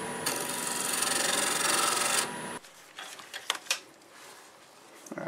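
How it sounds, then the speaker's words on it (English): Sandpaper rubs by hand against a wood-turned lidded box, a close, steady rasping scrape for about two seconds. Scattered light taps and handling knocks follow in a quieter stretch. "I sanded it up to 500 grit."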